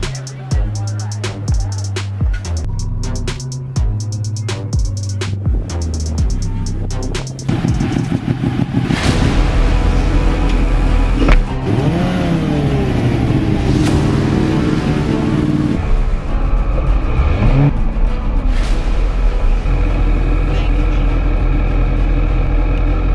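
Racing motorcycle engines, including a Ducati, roar loudly and continuously at a track, with revs rising and falling as the bikes pass, building from quieter tonal engine sound into a dense, sustained howl.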